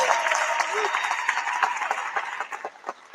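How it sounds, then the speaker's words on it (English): Audience at Alabama A&M applauds the women's basketball coach, a steady wash of clapping mixed with crowd cheering and voices, moderately loud and sustained. "give her a round of applause"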